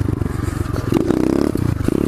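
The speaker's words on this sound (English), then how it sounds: "And then I'm pull a wheelie down this bitch." A pit bike engine revs hard while the rider pulls a wheelie, a close, rough buzzing motor with some clatter and scraping, and a voice briefly audible.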